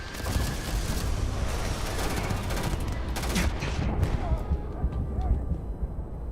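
Rapid gunfire in the Starfield video game, with dense bursts of shots continuing across the whole stretch, loud and close, and a voice occasionally heard beneath the shooting.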